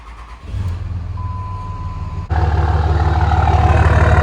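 A stock 2005 Dodge 3/4-ton diesel truck engine cranks and fires up, settling into a steady, loud rumbling idle with a deep low throb.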